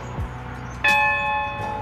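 A single bright bell chime rings out clearly and lingers with a ringing decay, loud and close, with no voices.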